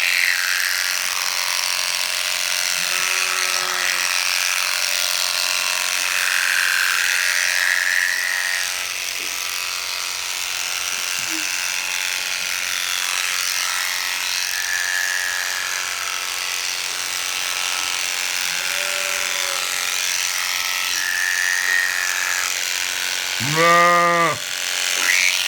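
Electric sheep shears running in a continuous mechanical buzz while cutting a sheep's fleece, the steady drone filling the whole stretch, with occasional sheep bleats faintly heard and one louder bleat near the end.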